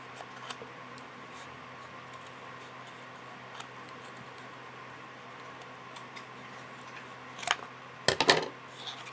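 Scissors snip through yarn strings, two or three quick crisp cuts near the end, close and fairly loud against a quiet room hum.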